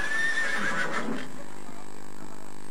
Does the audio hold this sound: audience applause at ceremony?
no